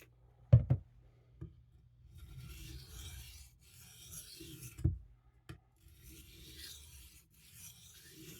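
A blade is worked on the India side of a sharpening stone to refine a burr, giving soft, intermittent scraping strokes close by, separated by quiet gaps and a couple of sharper knocks.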